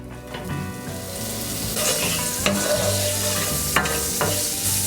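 Guanciale sizzles and spits loudly in a hot pan, a steady crackling hiss with occasional scraping as it's stirred.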